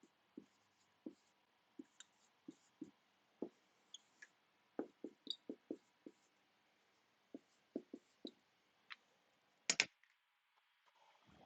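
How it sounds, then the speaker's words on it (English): Someone named Kirby types on a computer keyboard in a quiet room, sparse irregular key clicks and taps at close range, faint overall with one sharper louder clack near the end. "Kirby is typing."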